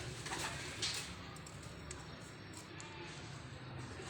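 A pair of Chapra pigeons cooing softly, faint, low calls coming and going against quiet background noise.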